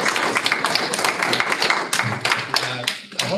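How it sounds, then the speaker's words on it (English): Audience applause at a board meeting, a burst of scattered hand clapping from a modest group in a room, irregular claps mixed with some voices. "I hope that applause was heard"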